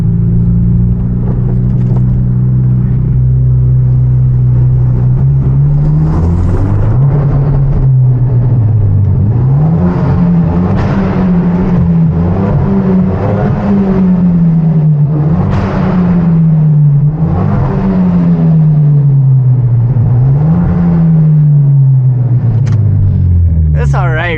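A manual Hyundai Genesis Coupe on a night drive through empty downtown streets revs loudly and close, its engine note climbing and dropping repeatedly through gear changes. The driver talks over the engine.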